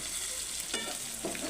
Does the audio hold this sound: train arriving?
no